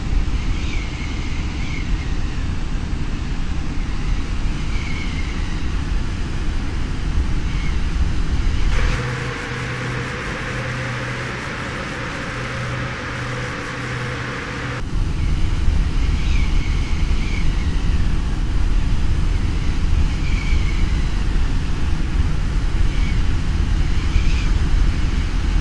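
Steady airplane engine drone in a flight simulator during an approach to landing, a continuous loud hum with a brief shift in tone midway before the same drone returns.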